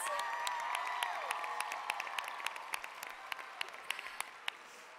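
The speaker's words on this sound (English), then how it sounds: "Can we give Devon a round of applause?" An audience applauds at a conference closing ceremony, steady mid-distance clapping with scattered sharp individual claps, continuing for several seconds without speech.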